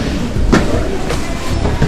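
Sapporo metro train at Sapporo Station, a steady rumbling rail drone with a few sharp clacks and bursts, close and fairly loud.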